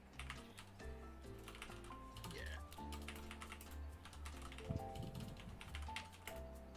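Steady typing on a computer keyboard, quick irregular clicks and taps close up, playing over a low background of steady tonal hum with no one speaking.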